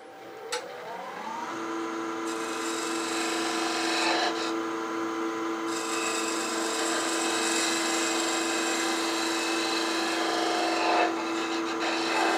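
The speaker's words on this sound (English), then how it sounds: "Just cut a cove in here, all the way to the bottom of that fillet." A hand-held turning tool cuts a cove into wood beneath a fillet. It makes a continuous scraping, rasping sound over a steady motor hum, close and fairly quiet, with the tone shifting a few times.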